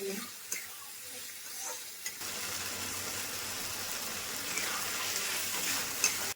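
Sliced tomatoes and potatoes being stirred and mixed in a hot pan while cooking a tilapia fish dish, giving a steady close sizzle with soft scraping and stirring throughout.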